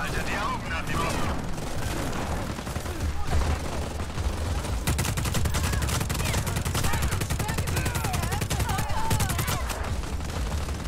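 Sustained gunfire from the video game Just Cause 4, a dense fusillade of machine-gun bursts and heavy booms that keeps going the whole time, with in-game voices speaking over parts of it.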